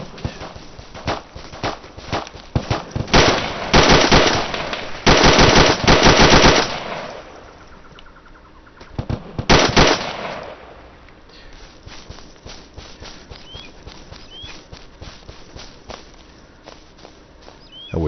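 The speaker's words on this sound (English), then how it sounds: "I wish these guys did a better job of doing suppressive fire" Gunfire in an ARMA 2 military shooter game, with rapid machine-gun bursts and scattered single shots at varying distances, heavy volleys alternating with quieter stretches of sporadic fire.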